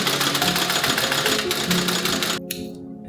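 A sewing machine stitches bag lining in rapid, rhythmic bursts, loud and close, then stops abruptly near the end before restarting briefly.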